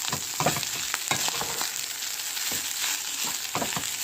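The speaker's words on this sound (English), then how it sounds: "just keep stirring it until you've mixed all of the garlic and the onion up in this" Garlic and onion sizzle steadily in a hot pan while a utensil stirs them, with repeated scraping strokes breaking through the constant close frying hiss.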